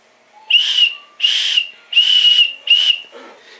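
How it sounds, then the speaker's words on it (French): An old metal whistle, its pea missing, is blown four times in short, even blasts of a shrill steady tone, close and loud, followed by a brief soft rustle. "le sifflet. Et il marche"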